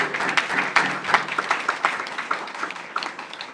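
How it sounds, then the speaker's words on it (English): A room full of people claps steadily, a dense patter of applause at moderate loudness with no voices over it. "just receiving a quick round of applause for the great work."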